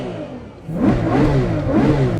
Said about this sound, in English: a naturally aspirated V12 making 900 horsepower. Yeah, it sounds freaking beautiful